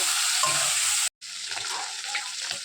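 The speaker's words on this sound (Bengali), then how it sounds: "আর এদিকে চিংড়ি মাছ ভাজা হচ্ছে সর্ষের তেলের মধ্যে" Prawns fry in mustard oil with a close, bright sizzling hiss that cuts out for an instant, then resumes with softer crackles.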